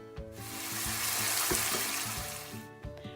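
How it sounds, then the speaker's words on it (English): Lamb and onions sizzle steadily in a hot pan at a home stove, a constant frying hiss with a few soft clinks of stirring, close and moderately quiet with no talking. "So now I added the lamb to the onions in the pan and then stirred it properly for some time."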